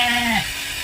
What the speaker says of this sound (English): that's the baby sheep